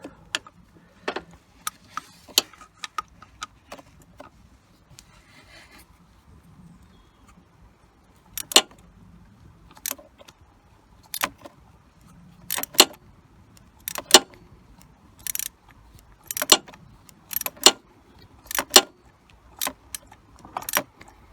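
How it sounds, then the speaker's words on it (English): Metal clicks and ratchet-like ticks from removing thermostat housing bolts on a Jaguar X-Type, with sharp scattered bursts that come in irregular clusters and grow denser in the second half. "let's get these stupid bolts off"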